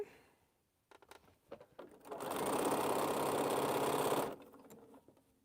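A sewing machine joins fabric pieces for a string quilt, first a few clicks and handling sounds, then one sustained loud buzzing run of stitching lasting about two seconds before it stops.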